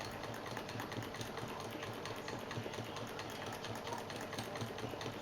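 Sewing machine running steadily while free-motion quilting a pebble pattern, a continuous fast stitching hum at moderate level with no voices.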